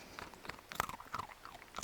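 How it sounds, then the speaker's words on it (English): A dog crunches a hard biscuit, with several sharp, irregular crunching bites close to the microphone. "You can hear the sound of Euro crunching"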